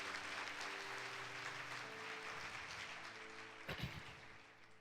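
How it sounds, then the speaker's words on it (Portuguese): Church congregation applauding at a Sunday service, a steady wash of clapping from many hands at moderate distance, thinning slightly toward the end with a brief louder burst near the close. "Então dá um aplauso a Ele"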